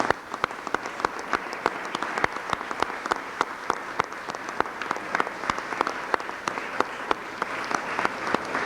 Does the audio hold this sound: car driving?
no